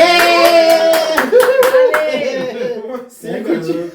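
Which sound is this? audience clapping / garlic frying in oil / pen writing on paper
audience clapping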